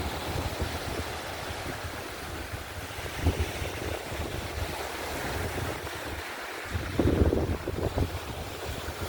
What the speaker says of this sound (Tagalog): it's very windy. Very windy.